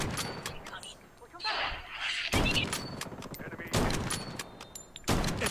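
Shotgun blasts in a mobile shooter game, several loud bursts spaced a second or two apart with rattling gunfire between them, while a voice talks over the action.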